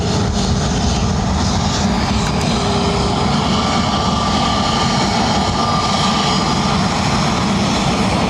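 A KLM Boeing 737-800 arriving at Dublin Airport in high wind roars loudly and steadily, its jet engines making a dense, continuous rush close by with no voices.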